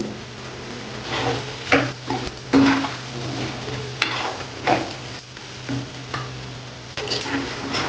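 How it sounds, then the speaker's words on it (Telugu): Pumpkin halwa cooking, with jaggery melting in ghee: a spoon stirs the mixture in a pan on a stove, making irregular scrapes and light taps over a low steady hum and a faint sizzle. "నీరు వచ్చి ఈ నీరంతా పోయి దగ్గరకు వచ్చే వరకు మనం స్టవ్ మీద ఇట్లా కలుపుతూ ఉండాలి"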